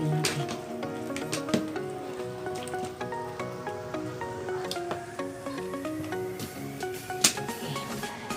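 Banana blossom adobo with pork hock being stirred in a pan, a steady sizzle and bubbling with scattered scraping clicks of the utensil throughout.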